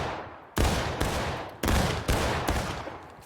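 Musket volleys in War of Rights: four sharp, loud rolling bursts of massed gunfire about half a second apart, each cracking then fading into a ragged echoing tail, close and alone.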